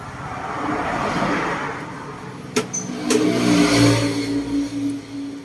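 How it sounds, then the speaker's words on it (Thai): A Honda MSX motorcycle engine with a leaking exhaust valve and hard starting turns over and catches, then idles and revs unevenly with a low mechanical rumble, close by after a steady background hum. "เดี๋ยวเราจะมาลองสตาร์ทเครื่องยนต์กันดูนะครับว่ามันจะติดหรือไม่"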